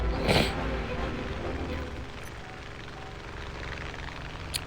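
An Fw 190 propeller aircraft engine drones steadily in a video game, a continuous rough roar with a louder burst at the start and speech-like activity mixed underneath.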